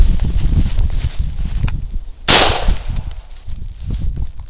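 A single sharp report from a 9mm handgun fired at a melon cracks out loudly partway through, standing out against quieter shuffling and rustling outdoors.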